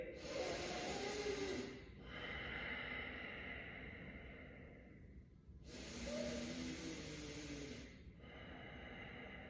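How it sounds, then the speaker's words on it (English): Long, slow, deep breaths during a warm-up exercise: two loud, airy inhale-exhale cycles, each lasting several seconds, close to the microphone with no talking. "Breathe, long, slow, deep breaths here."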